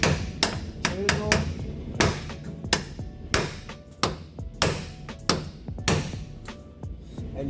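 Chisel tapped against the lock ring of a 2018 Chevy Silverado fuel pump, a series of sharp metallic taps in an irregular rhythm with ringing overtones, close and moderately loud.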